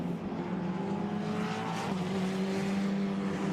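A Formula Regional European Championship race car at the Paul Ricard circuit howls steadily at high revs as it heads down toward the Mistral chicane, its engine note loud and sustained with slight pitch shifts throughout.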